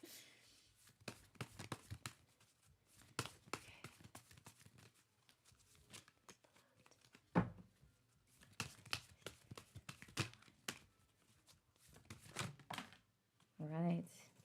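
Tarot cards being shuffled in repeated quick riffling bursts with short pauses, close by, and a brief vocal sound near the end.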